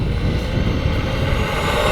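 An RC USAF Thunderbirds jet taking off, a loud steady turbine roar with broadband hiss that holds constant and close throughout.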